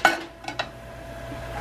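Ground hamburger meat goes into a cooking pot with a sharp metal clank and a couple of scraping knocks, followed by a soft, low sizzle that fades away.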